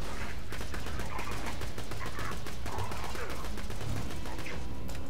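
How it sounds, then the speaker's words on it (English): Repeated gunshots in Borderlands 2 fired at robots, sharp close blasts spaced irregularly across several seconds over a constant noisy game background, with a voice faintly present underneath. "I sure do want to show you my shotgun."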